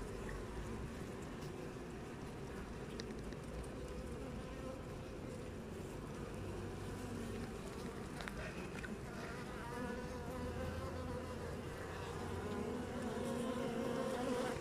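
Honey bees buzz continuously in a dense, steady drone, as if many are gathered close around a hive.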